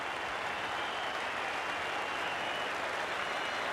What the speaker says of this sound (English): Applause from his teammates in the Australian dressing room and a standing ovation from certain areas of the crowd.